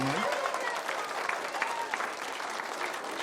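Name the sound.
applause for a podcast guest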